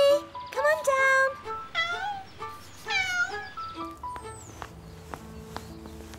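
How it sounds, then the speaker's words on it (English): A cat meows several times as it climbs a long way up, the rising, drawn-out cries fairly close and clear while people talk around it. "Come on, Kitty. Come on down."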